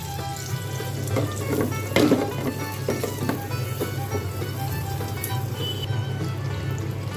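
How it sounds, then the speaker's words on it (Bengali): Brinjal slices fry in hot oil for a curd brinjal dish, giving a steady close sizzle over a constant low hum, with occasional light clinks of utensils. "বেগুনগুলোকে আমি এক এক করে প্রথমে ভেজে নেব"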